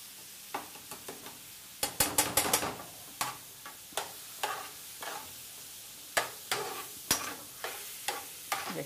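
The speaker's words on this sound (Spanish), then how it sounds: "revolvemos con la cuchara de madera como debe de ser" Wooden spoon stirring a Christmas salsa of pineapple syrup, soy sauce and mustard, heard as irregular close knocks and scrapes, with a quick flurry of taps near the start and spaced clacks after, no talking.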